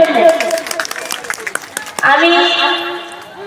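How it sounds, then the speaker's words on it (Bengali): Audience clapping for Miraj at a gathering, a burst of applause rising under a voice and then carrying on alone as a steady crowd clap. "একটা তালি দেওয়া যাক মিরাজের জন্য"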